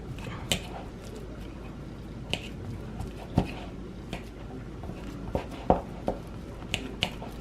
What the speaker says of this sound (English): 3 ripe bananas. And mash it with a fork.